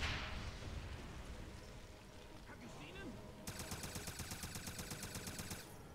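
Gunfire in the shooter game Wolfenstein, an initial blast followed by a rapid rhythmic burst of automatic fire, with someone talking over the action.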